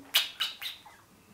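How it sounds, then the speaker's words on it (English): A pet Senegal parrot gives a quick run of four sharp, close chirps, the first loudest and each later one fainter, in a quiet room with no talk. "my parrot Falco is a very well-behaved parrot"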